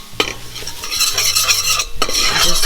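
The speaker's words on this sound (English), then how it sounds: "you just stir it into the hot oil" Flour being stirred into hot oil in a pan for a Mexican chicken mole, a spoon scraping steadily and continuously through a loud close sizzle, with no talking.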